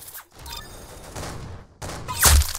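Gunfire in the Roblox game Arsenal: a couple of sharp shots with a bright final crack near the end, close and moderately loud, with no voices over it.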